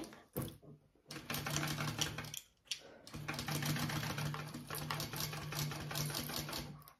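A close sewing machine bastes a zipper onto a crossbody bag in short bursts, then a longer steady run, with quick pauses between stitching spells.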